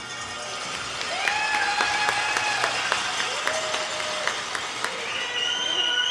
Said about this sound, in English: let's give a warm round of applause to the 8 men's and women's championship teams that are playing tonight